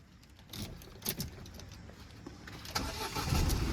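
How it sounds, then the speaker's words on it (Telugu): Keys jangle, then a 2015 Ford Figo Aspire engine cranks and turns over, settling into a low idle close by. "సో ఇప్పుడైతే నేను ఇంజన్ స్టార్ట్ చేస్తున్నా."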